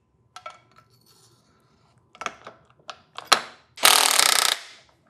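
An Ohlins fork air cartridge being installed with a lock ring tool on a bicycle fork, with scattered sharp metallic clicks and taps, a louder clink, then a short grinding ratchet-like burst, all close and without speech.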